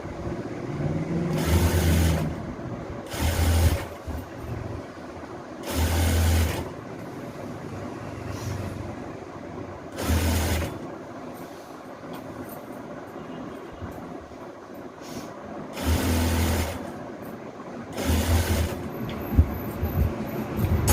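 A sewing machine stitches a readymade madisar saree in short bursts of rapid whirring, several runs of a second or two separated by quieter pauses, close and fairly loud, with no talking.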